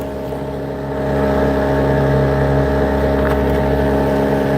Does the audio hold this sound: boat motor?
yes